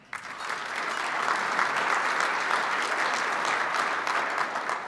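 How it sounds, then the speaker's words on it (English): A large audience applauds steadily after a remark at a John Tory address, a dense, even wash of many hands clapping that swells slightly and holds for several seconds without voices. "I think that deserves some applause."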